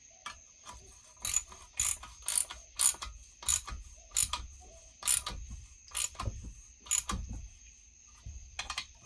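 A ratchet clicks in short bursts while tightening bolts on a Husqvarna 1100cd motorcycle being resealed and reassembled, sharp metallic ratcheting strokes close up with pauses between, no talk.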